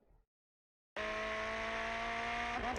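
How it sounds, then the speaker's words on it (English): After a brief quiet moment, a Ferrari 488 GT3 race car in the iRacing video game roars in at high, steady revs at Tsukuba Circuit, holding a harsh buzzing pitch as it bounces off the rev limiter. "you can actually hear the car hitting the rev limiter"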